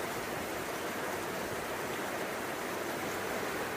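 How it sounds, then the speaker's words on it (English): River water running along the Broad River Greenway trail, a steady unbroken rush of moving water, even and moderately loud throughout. "I don't know if you can hear that water running in the background."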